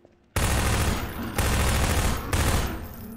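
Three loud bursts of automatic gunfire in Half-Life 2: Episode 1, each a sustained volley starting abruptly and running close together, near and dominant with no talk.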